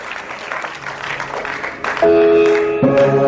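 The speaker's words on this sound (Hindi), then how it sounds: "चीफ गेस्ट आज के प्रोग्राम के लिए जोरदार तालियां" Loud applause from an audience at a ghazal and qawwali evening, greeting the chief guest, dense clapping that swells near the end as sustained musical tones enter beneath it.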